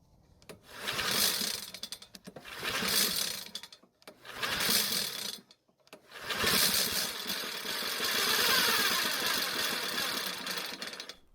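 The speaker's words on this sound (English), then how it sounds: "It should have roared to life, but instead it sort of sputtered to life and then slowly died." A Honda lawn mower engine pulls over in several rough bursts, catches and sputters to life, then runs unevenly before slowly dying. It is close and fairly loud, with no talk.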